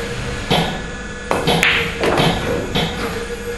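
A pool cue strikes a ball in a medium-speed shot, giving several crisp taps and knocks scattered across a few seconds over a steady room hiss.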